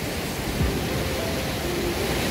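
Water at Air Terjun Jembong in Bali pours in a constant, even rushing hiss, close and unbroken, with no voices.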